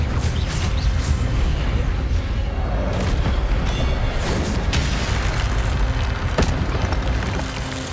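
Incendio fire spell blasts in Hogwarts Legacy combat: a continuous, loud wall of fiery whooshes, booms and crackling impacts with sharp hits scattered throughout, dense and unbroken from start to finish.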